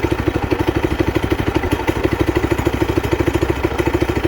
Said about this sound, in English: But I got the choke off. We're idling,